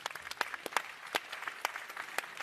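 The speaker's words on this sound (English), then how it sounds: "Give yourselves a clap." Light, sparse applause from a small group, scattered claps heard at a moderate distance.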